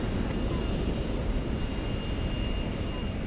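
Jet airliner with GE90 engines on a taxiway, a steady broadband roar with a faint high whine running through it, moderately distant and unchanging, with no talk over it.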